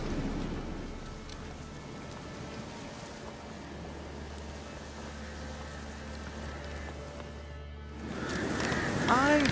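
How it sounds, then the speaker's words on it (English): Steady rain falling in The Witcher 3: Wild Hunt, a constant hiss with a low rumble underneath that swells louder near the end. "Oh, and I can't stand the rain any longer."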